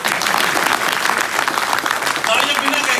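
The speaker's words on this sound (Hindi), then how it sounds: "तालियां बजाओ" An audience at a comedy talk claps loudly for about three seconds, dense continuous applause with a faint voice briefly audible near the end.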